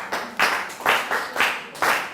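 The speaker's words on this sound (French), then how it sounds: "Applaudissez pour elle" Audience clapping in bursts, about four rhythmic waves of hand claps from a moderate-sized crowd at a breastfeeding Q&A session, fairly close and alone without talk.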